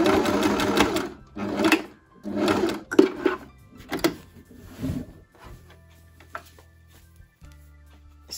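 Sewing machine stitching a fabric sleeve in quick bursts, each run a rapid mechanical chatter of a second or so separated by pauses, followed by lighter clicks and a low hum as the machine slows.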